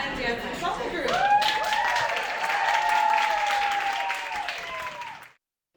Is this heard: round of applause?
yes